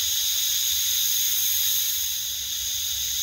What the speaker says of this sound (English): I'm just going to very, very gently apply some compressed air